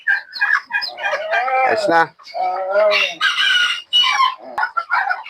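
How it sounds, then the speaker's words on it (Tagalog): Backyard hens cluck loudly up close while a pet rooster crows in long wavering calls, the birds overlapping in a busy farmyard chorus as someone speaks briefly near the end. "Ito si Bogart, yung aking tandang na drama"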